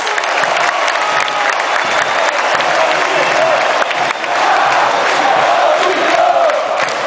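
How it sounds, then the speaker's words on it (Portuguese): A loud stadium crowd at a Flamengo versus Botafogo semifinal roars and applauds in a continuous dense wall of noise, with shouting voices mixed throughout. "Palmas pra nós, palmas!"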